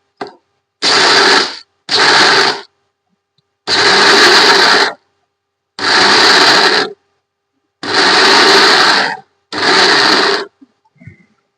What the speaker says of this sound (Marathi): मिक्सर मधून काढून घ्यायचं आपण.